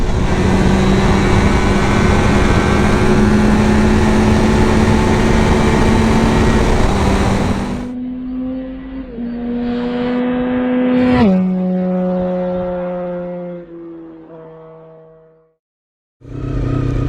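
A Honda VFR400 motorcycle engine revs hard and accelerates up through the gears, a loud close roar with rising and falling pitch sweeps, then drops away and goes briefly silent before picking up again.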